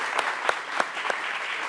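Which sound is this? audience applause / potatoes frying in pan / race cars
audience applause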